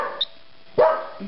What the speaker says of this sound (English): Yeah, you bark at him.